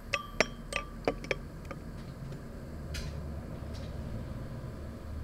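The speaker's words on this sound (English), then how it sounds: "Give it a stir." A stirrer clinks several times against a glass holding a salt solution in a lab setup, a quick run of bright taps near the start, then a couple of faint touches over a low steady hum.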